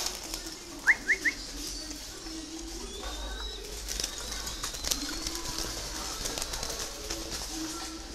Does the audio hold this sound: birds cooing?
yes